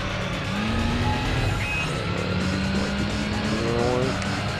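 A race car in the video game Gran Turismo 3 holds a steady engine drone through a turn, with rising pitch shifts and faint tire squeal. A voice talks over the car throughout.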